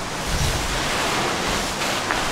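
Strong outdoor wind buffets the microphone in a steady, loud rush of broadband noise for the whole stretch, with no voices heard.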